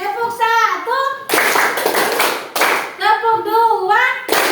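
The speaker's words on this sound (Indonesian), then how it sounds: "kita mulai dari tepuk 1" A class claps in rhythm during an ice-breaking game, with several short bursts of crisp group clapping between patches of voices speaking or chanting.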